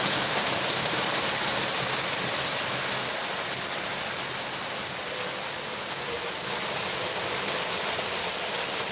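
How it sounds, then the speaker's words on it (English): Model railroad locomotives running on screwed-down track, giving a steady, dense rumbling hiss that holds evenly at moderate loudness throughout with no voices. "The vibrations of these locomotives actually make the track move."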